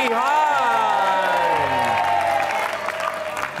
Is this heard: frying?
no